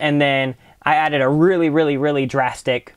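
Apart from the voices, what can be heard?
None of the usual background noises is heard.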